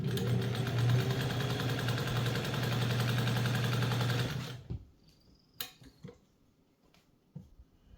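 A Kenmore 117.252 sewing machine, just restored, runs steadily for about four seconds at close range with a dense, fast mechanical stitching hum, then stops, leaving a few light clicks and handling noises.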